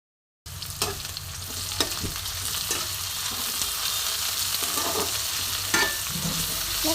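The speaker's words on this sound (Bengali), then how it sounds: "এবার পেঁয়াজটা আমি একটু ভালো করে ভেজে নেব।" Chopped onions fry in a pan for a fennel-coconut chicken dish, giving a steady, close sizzle with occasional scraping stir strokes and no talk.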